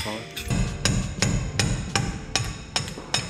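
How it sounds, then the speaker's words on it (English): Steady hammer blows pound out an S-cam bushing on a truck brake assembly, about eight sharp metallic strikes at a regular pace, close and fairly loud. "it's nice when you get behind and pound them out"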